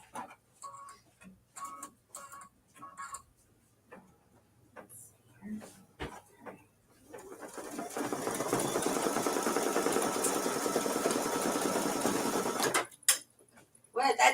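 A sewing machine stitching a Kimberbell mini-quilt strawberries block while shredding thread, a long steady mechanical whirr in the middle after scattered ticks and handling sounds, with brief speech before it.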